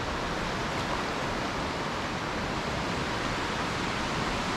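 Whitewater on the New River in the New River Gorge near Fayetteville, West Virginia, running low but still moving, heard from a trail through the trees as a steady, broad rushing hiss that stays even for the whole stretch with no voices.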